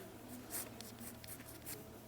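Pen or pencil scratching across notebook paper while a math problem is worked out, soft steady strokes with a few brighter scrapes, close and quiet, with no voice over it.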